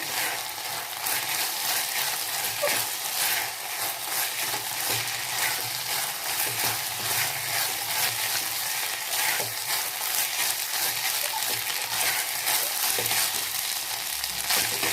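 Steady sizzling and crackling of soaked basmati rice frying in a hot pan, with occasional stirring scrapes, continuous and fairly close.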